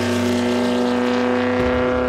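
A Brabham BT19 racing car's engine drones loud and close with a steady, harmonically rich tone that shifts slightly as the car moves past.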